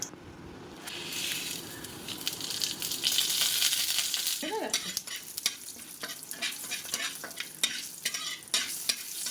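Panch phoron spices hit hot oil and sizzle in a steady frying hiss, followed by a brief metallic clink and a run of sharp crackling pops and spatters, close and continuous without speech.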